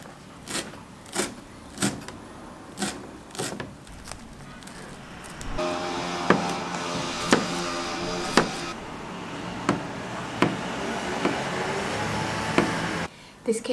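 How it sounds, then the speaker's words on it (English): Knife chopping in a semi-open kitchen in Mauritius: sharp, evenly spaced knocks about once a second over steady road-traffic noise, which swells partway through and sits louder than the chopping. "you can probably hear the traffic more than the chopping"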